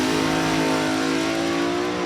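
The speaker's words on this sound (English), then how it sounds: "Blown Olds combination. 526. Pretty much the old alcohol dragster engine combo. Powering red down the racetrack" Top dragster with a supercharged Oldsmobile alcohol engine blasts down the drag strip, a loud, sustained, harsh engine roar filling the whole stretch.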